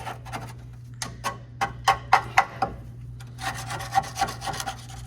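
A tool scrapes caked grease and grime off the ball joints of a 1959 Ford Fairlane, a series of short, close rasping strokes in irregular bursts with brief pauses between them.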